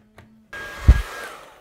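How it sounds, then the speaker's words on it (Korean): A handheld hair dryer switches on after a brief click and blows a steady, close airy whoosh in a home bathroom after a shower, with one louder thump partway through. "드라이기를 바로 꺼내줘요."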